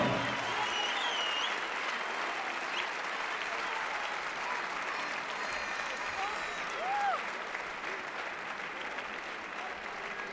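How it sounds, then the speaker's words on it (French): An audience at a combat sports event applauds at the end of a bout, a broad steady roar of clapping lasting around ten seconds, with occasional faint shouts and whistles in the hall. "Fin du combat et on peut les applaudir s'il vous plaît."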